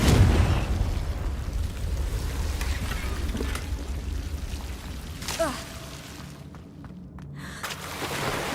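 Confringo fire spell blasts in the video game Hogwarts Legacy, sounding as a whooshing burst and booming impacts over a dense, rumbling game soundscape with no voices.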